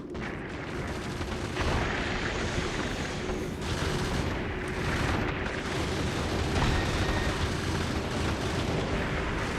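Constant rolling barrage of rocket and weapon fire in the factory-building game Factorio, dense overlapping blasts and bursts continuing loud and unbroken throughout with no pauses.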